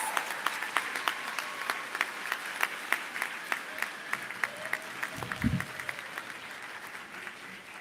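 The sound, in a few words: audience applause at medical school commencement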